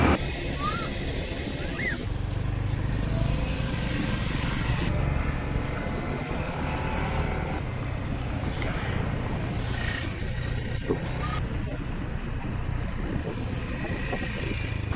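Continuous engine and road rumble from a motor vehicle riding through the streets and small towns of Cambodia near Siem Reap, with wind noise throughout and occasional faint horn-like tones over the steady drone.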